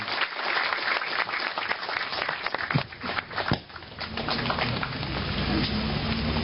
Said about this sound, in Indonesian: kita tepuk tangan sekali lagi dengan penuh harapan